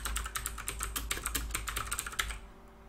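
Rapid, steady clicking of keys on a computer keyboard as a value is entered in a Python programming lesson, close and fairly quiet, stopping just before the end.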